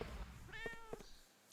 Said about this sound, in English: the cat meowed as we came in the door